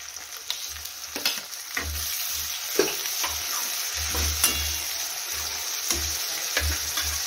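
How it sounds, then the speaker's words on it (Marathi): Onion and tomato sizzling and frying in hot oil in a pan, a steady close crackle with periodic stirring scrapes and soft clunks, no voices. "तर कांदा असा छान फ्राय होत आलेला आहे आपला."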